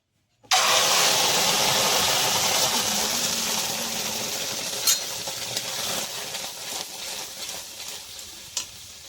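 Raw mango, mint and ginger paste hits hot oil in a wok with a loud, sudden sizzle that stays strong and steady, slowly easing off, with a couple of sharp clicks from stirring near the end.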